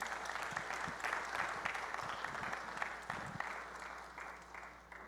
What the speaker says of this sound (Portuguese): a gente dar uma salva de palmas